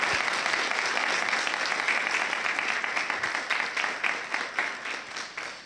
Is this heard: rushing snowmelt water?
no